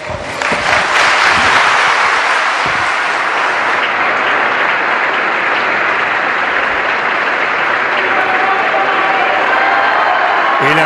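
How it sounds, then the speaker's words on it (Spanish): A packed crowd in the Paul VI Audience Hall at the Vatican breaks into loud, sustained applause with some cheering, a dense wash of clapping that fills the hall throughout. "El aplauso en esta sala Nervi colmada"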